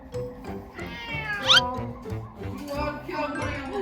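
A cat lets out a high, whiny meow amid nearby talking, with a second fainter meow a moment later under the voices.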